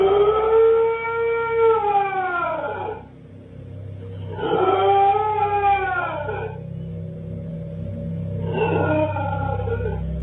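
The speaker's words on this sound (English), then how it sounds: "That sounds like a dog to me" Drawn-out, wavering howls rise and fall in three long bursts, each a few seconds long and separated by short gaps. A low steady rumble continues underneath, and no one speaks. The howling is reported as a dog's, recorded by a camera left out on a dark night.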